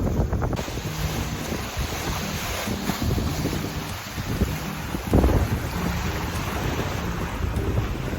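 Wind buffets the microphone steadily aboard an HH52 catamaran sailing fast through open sea in the Malacca Strait, with water rushing and splashing along the hulls and a heavier surge of spray near the middle.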